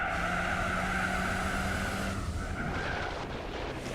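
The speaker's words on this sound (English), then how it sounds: "Yeah, the tyres are certainly making a racket." Gran Turismo 4 racing car mid-slide, with loud engine roar and broadband tyre scrubbing and squeal, fading somewhat toward the end.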